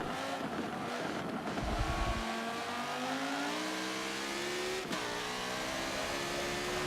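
Simulated race car engine at Silverstone in Forza Motorsport 7, revving high and climbing steadily in pitch under full throttle, with a brief dip and gear change near the end; loud and continuous, no talk.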